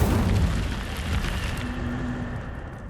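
Incendio fire spell in Hogwarts Legacy: a loud fiery blast bursting at the start, then a rumbling whoosh that slowly fades with a faint lingering hum.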